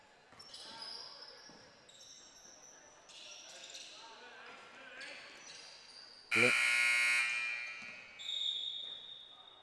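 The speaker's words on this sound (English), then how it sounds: "I believe the buzzer has accidentally gone off" Loud electronic buzzer blaring at a high school girls' basketball game in a gym, sounding for about two seconds and then again briefly, after ball bounces, squeaks and a commentator talking.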